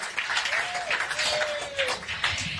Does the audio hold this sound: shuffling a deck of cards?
no